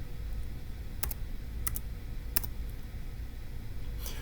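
A few sparse, crisp key presses on a computer keyboard as numbers are entered for a daily Turing Machine puzzle, close and isolated against a faint background hum.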